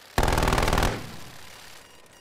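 An automated sentry gun in Call of Duty Cold War rattles off a sharp, rapid burst of machine-gun fire lasting under a second, loud and close, then a fading echoing tail.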